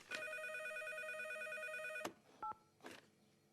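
Telephone in a Caillou cartoon rings with a long, bright electronic trill that stops abruptly, followed by a short beep and a click as the receiver is handled, all fairly quiet.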